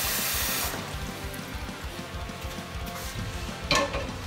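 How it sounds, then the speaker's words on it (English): Water running into a cooking pot, a steady rushing splash with a metallic clatter near the end, close and alone. "take in the pot and fill up with water."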